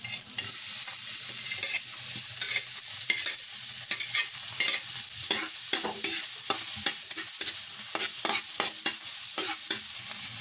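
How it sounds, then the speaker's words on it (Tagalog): Sliced garlic and onions sauté in a hot pan, a continuous dense sizzle punctuated by rapid scraping and clacking as a utensil stirs them, close and steady throughout with no talking. "na natin ilagay yung mga hiniwang bawang. Sabay na natin yung mga sibuyas."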